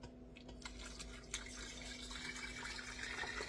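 Strained homemade apple juice pours from a pan in a steady, close liquid stream with light splashing, over a faint kitchen hum.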